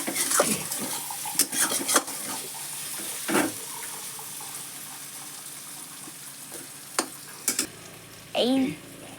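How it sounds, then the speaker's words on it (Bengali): Elephant foot yam stems sizzling in a pan while being stirred, with scraping and clattering utensil strokes over a steady frying hiss, plus a brief tap of water and a short voice near the end. "ওলের ডাঁটা ভাজা প্রায় হয়ে গেছে"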